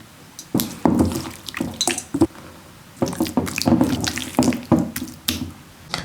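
Juice from a marinating Japanese karaage chicken mixture being poured off, heard as close, irregular wet splashes and drips in short bursts with quiet gaps between them, no talking.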